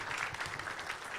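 A brief burst of dense audience applause greets the chairman at a business forum, a steady, even wash of many hands clapping at moderate distance.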